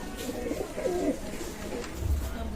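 Banaras-line pigeons in a pigeon loft coo softly in low, rolling murmurs against a steady background hum, with one deeper coo standing out near the end.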